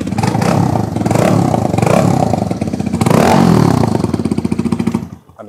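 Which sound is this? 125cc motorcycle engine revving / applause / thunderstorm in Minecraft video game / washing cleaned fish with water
125cc motorcycle engine revving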